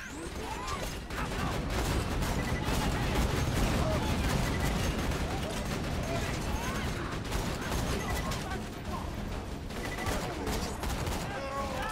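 Deployed turrets in Borderlands 2 rattle off dense, continuous automatic gunfire mixed with mechanical clatter, loud and unbroken after the first second.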